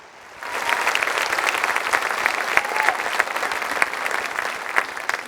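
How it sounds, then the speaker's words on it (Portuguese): Sustained applause from a church congregation, steady dense clapping that starts abruptly and continues at an even, loud level throughout. "Você pode dar um aplauso ao Senhor, você pode dar um aplauso ao Senhor."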